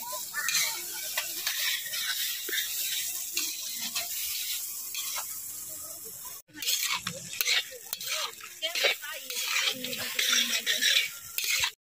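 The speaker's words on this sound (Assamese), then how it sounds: "আমাৰ দাইল বইল হৈ আছে আৰু চিকেন ফ্ৰাই হৈ আছে" Chicken sizzles in hot oil beside boiling dal over a smoky open fire at a picnic, with continuous loud frying and repeated scraping stir strokes, broken by a brief pause midway.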